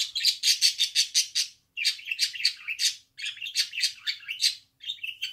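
A newly arrived pet bird chirps and squawks in quick, bright bursts, close and loud, with short pauses between phrases and no voices.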